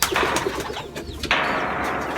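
A racing pigeon nearby gives soft cooing and fluttering sounds, with a brief burst of rustling partway through, as it is clocked in after a fourth-lap derby race.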